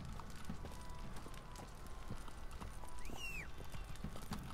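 Horse hooves clip-clopping in the Witcher 3 video game, a steady run of soft hoof beats at night with a brief whinny-like tone near the end, under game ambience.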